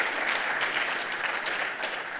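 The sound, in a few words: audience round of applause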